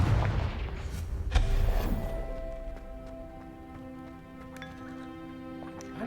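A Confringo fire spell explosion in Hogwarts Legacy bursts loudly near the start, a booming blast followed by a rumbling tail that fades into a steady, sustained magical hum with tonal ringing layers.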